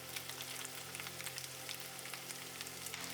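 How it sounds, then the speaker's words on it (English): Minced lamb and veal sizzle steadily in a hot pan, a faint, even crackle of frying with a low hum beneath and no voices. "lamb and veal and fry for about 5 to 6 minutes"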